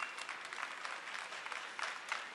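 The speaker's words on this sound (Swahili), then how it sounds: "Hongera sana, jipigieni makofi wote." Audience applause from a youth gathering, steady dense clapping filling the room throughout, fairly distant and moderate in level, with no speech over it.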